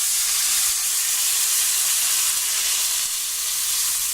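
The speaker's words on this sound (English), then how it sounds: "I'm going to add the stock." Chicken stock poured into a hot pan of fried garlic gives a loud, steady hiss and sizzle of steam that holds evenly for several seconds, up close and with no voices.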